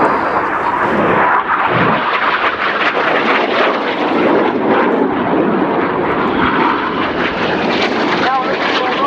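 Red Arrows display jets roar past at an air show, a loud, continuous rushing engine noise that swells and holds throughout, with a voice commentating over it.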